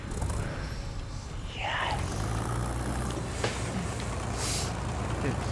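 Battlefield 1 tank engine idling as a steady, low rumble throughout, with a brief hiss and some clanks layered on top and players chatting over it.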